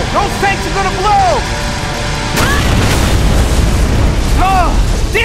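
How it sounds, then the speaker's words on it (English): Fuel tanks blow up in Gears of War 3 with a heavy booming explosion midway, followed by rumbling debris and fire, while shouting voices sound before and after the blast. "Those tanks are gonna blow!"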